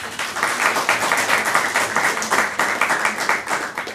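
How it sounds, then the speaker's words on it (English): Audience applause after a talk at a startup event, a modest crowd clapping in an even, rhythmic patter that holds steady for several seconds. "Let's give her a round of applause."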